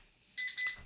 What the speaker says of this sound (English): Yes, I needed an alarm.